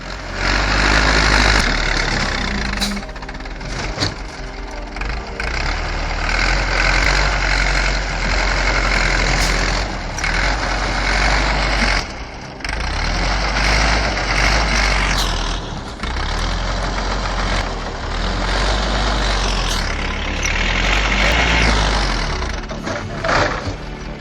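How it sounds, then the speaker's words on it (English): A Case IH 1455 tractor engine roars loudly and steadily while working through deep snow and mud, a continuous heavy diesel rumble with shifting intensity throughout. "That case, IH-1455, doesn't just move, it roars with pure mechanical power."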